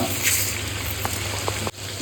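Rice, salt and fish head sauté together in a pan, a dense, loud sizzle heard up close with faint stirring taps, cutting off abruptly near the end; nobody speaks.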